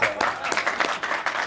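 An audience claps at a groundbreaking ceremony for a Massasoit Community College science building, a short burst of fairly close applause with individual claps standing out and voices talking over it.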